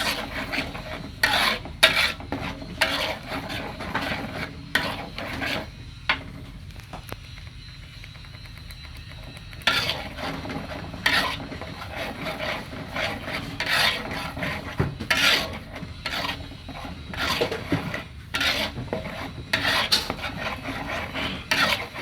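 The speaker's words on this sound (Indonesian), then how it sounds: "Aduk terus." Bumbu spice paste for chicken soto is stirred and scraped in a pan, giving repeated rasping, rubbing strokes in irregular bursts, close and fairly loud, with a brief quieter pause midway and no talk.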